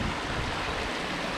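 A stream and small waterfall in Glenshee, Scotland, flow over pebbles, giving a steady, close, full rush of water with no pause across the short stretch.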